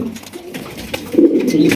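Close, loud cooing from a yellow-coloured male pigeon of a fancy breed kept in a pair at a market stall, rising into a stronger rolling coo in the second half.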